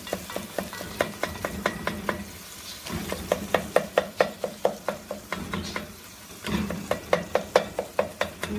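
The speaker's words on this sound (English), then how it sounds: "you put something cool in the pan, the sizzling stops a little bit" Greek-style bolognese meat sizzles steadily in a pan while a utensil stirs and scrapes it in a quick, regular rhythm, close and alone with no talking.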